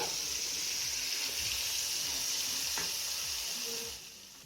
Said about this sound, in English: once you add this in, it's going to sizzle again.